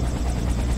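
Helicopter in The Amazing Spider-Man 2 video game, a steady close rotor thrum with engine whine that holds at an even loudness throughout, with no voices over it.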